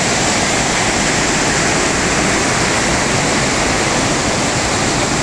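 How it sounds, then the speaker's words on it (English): Rapids and cascades rush through Springbrook National Park in Australia, making a loud, steady, broadband roar of moving water that never lets up, with no voices. "We're now down in the lower rapids. You can see the Twin Falls in distance. And there's the cascades."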